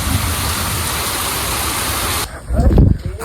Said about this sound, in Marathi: अति पाऊस पडला ना बाबा